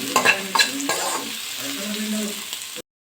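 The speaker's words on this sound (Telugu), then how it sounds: "కడాయి వేడైపోయింది. ఆనియన్స్ వేసుకొని ఆనియన్స్ ఫ్రై చేసుకున్నాం." Onions frying in hot oil in a kadai for chicken biryani, a close crackling sizzle with a few sharp stirring scrapes near the start, then fading to a steady fry before cutting off abruptly.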